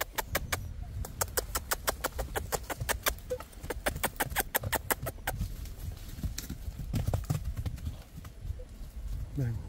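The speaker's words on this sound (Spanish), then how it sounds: "Ya llegó otro caballo ahí." A horse walks close by, its hooves clip-clopping in a steady run of sharp knocks that fade toward the end, while people talk in Spanish over low background noise.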